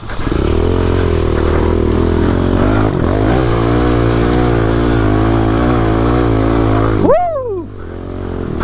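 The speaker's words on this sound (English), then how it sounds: "I gotta come through here with the Can-Am and clear it out." Can-Am off-road vehicle engine held at a loud, steady high rev close by, then a sharp throttle blip and drop to a lower idle near the end.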